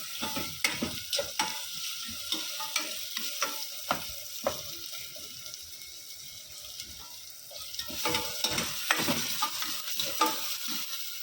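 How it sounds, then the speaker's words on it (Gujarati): Onions being stirred and fried in a pan for dal palak give a steady sizzle, with repeated clicking, scraping strokes of a spoon against the pan throughout, close and alone without talk. "હવે એને મિક્સ કરીશું. હવે ગેસ થોડો ફાસ્ટ કરી દઈએ."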